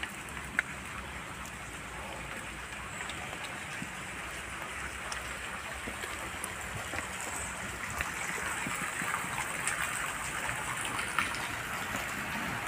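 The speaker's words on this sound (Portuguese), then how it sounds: "Tá chovendo muito." Heavy rain pouring outdoors near a grotto in Brazil, a dense steady hiss of drops on surfaces with scattered nearer splashes, fairly quiet and continuous with no talking.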